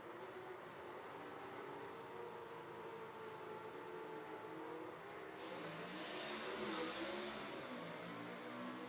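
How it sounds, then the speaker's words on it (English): A drag racing gasser's engine revs and roars steadily at a dragstrip, a loud continuous rumble that swells and grows brighter toward the end as the car sits at the line. "Heath Adams needs to let off that rev just a little bit."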